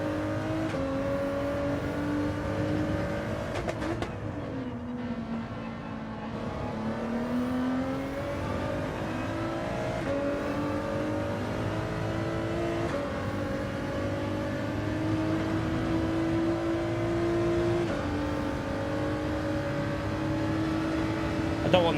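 A race car engine in Gran Turismo 7 drones through a lap with steady high revs, rising and falling as the driver lifts and accelerates through corners. Someone talks over it at times.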